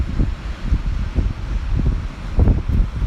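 Steady wind rush buffets a microphone while a DJI Mavic Pro drone flies in higher winds, a continuous low roar with gusty swells and no voices.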